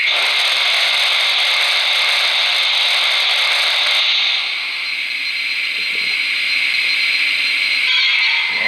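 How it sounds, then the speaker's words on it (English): Lionel LionChief Plus 2.0 Santa Fe 0-6-0T #95 model locomotive releasing a loud, continuous hissing steam blowdown effect through a small speaker, shifting to a softer hiss partway through, with faint mechanical rattles and no talking. "There's like a blowdown effect."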